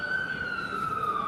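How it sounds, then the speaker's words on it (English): An ambulance siren passing along a city street near Rockefeller Center, a loud sustained wailing tone that slowly glides downward in pitch over steady traffic noise. "Ambulance. Might see the lights."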